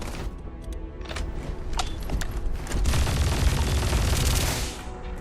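Gunfire from a powerful gun in the game Starfield, a rapid rattling stream of shots that builds louder and denser toward the end, with little talk.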